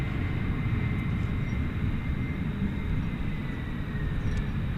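Qatar Airways airliner at DFW Airport at night, a steady broad jet engine roar holding constant and fairly loud throughout, with no talking.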